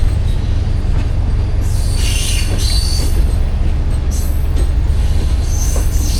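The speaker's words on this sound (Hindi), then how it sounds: "बल खाती हुई ट्रेन देखें" A train passes, winding along a curving track: a loud, continuous close rumble of wagons and wheels, with bursts of high wheel squeal rising over it.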